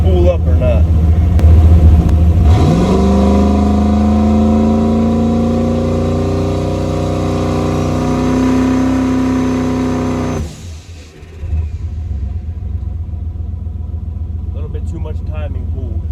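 A turbocharged 4.8-liter Foxbody Mustang revs hard on a two-step launch limiter, its loud engine note climbing and holding steady for about eight seconds before cutting off abruptly, with steady engine rumble continuing underneath.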